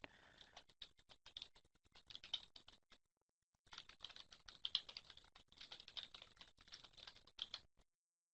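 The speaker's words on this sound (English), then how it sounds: "I'm doing a Google search right now while Pamela is typing." Fast, irregular keystrokes on a computer keyboard, fairly quiet and close, running in bursts with a short pause partway through, no talking.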